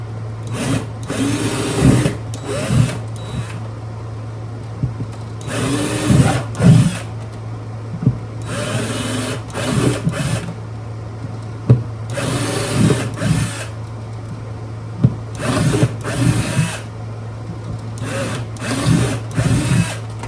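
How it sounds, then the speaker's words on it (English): A power drill whirs in repeated short bursts with pauses between, drilling out bridge pin holes in the wood of a 1943 Martin D18 guitar close by over a constant low electrical hum. "so we're just going to drill these back out"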